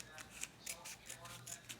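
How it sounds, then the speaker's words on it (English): Bandage shears snip through Hypafix tape in a quick run of soft, crisp cuts, about eight short snips in under two seconds, close and quiet. "I'm going to cut it now. So for this, I got my bandage shears"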